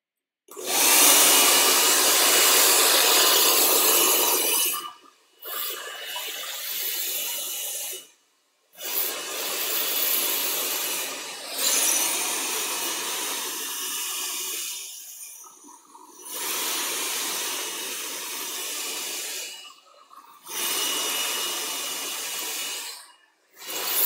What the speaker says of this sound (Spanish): cojo el secador desde arriba y lo aplano